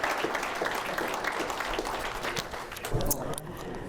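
Applause for Mayor Tim Worley at a City of Taylor State of the City presentation: dense, steady clapping from an indoor audience, sustained throughout at moderate loudness.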